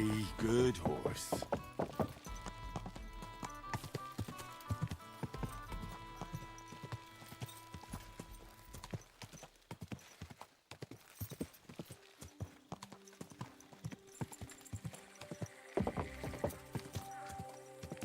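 Horse hooves clip-clopping in Kingdom Come: Deliverance 2, a steady rhythmic gait of close, moderately loud hoof thuds over tonal background music, with a brief whinny-like sound near the start.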